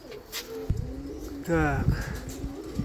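Young pigeons cooing outdoors on a windy day, a few soft low coos close by, with someone talking over them.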